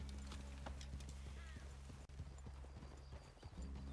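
Horse hooves clip-clop at a steady walking rhythm in the video game Red Dead Redemption 2, with a faint whinny and low background hum and no clear speech.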